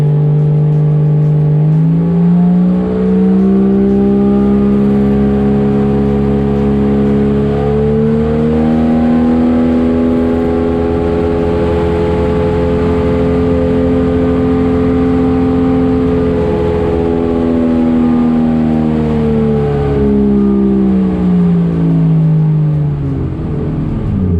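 A Nissan 240SX with a swapped 1JZ VVTi engine and clutch fan, loud and steady close up, rising from idle into a held rev and slowly dropping back, a smooth sustained drone with no voices.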